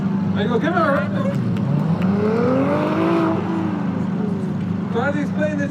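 A Ferrari hybrid V6 sports car runs on the Brands Hatch circuit, its engine note rising and falling as it accelerates past, heard under steady crowd chatter and nearby talking.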